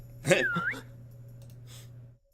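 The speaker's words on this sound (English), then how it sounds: "I suddenly heard a high-pitched whistle." A short high-pitched whistle signal in the visual novel game Steins;Gate 0: one brief swooping tone that dips and rises, heard over a steady low hum.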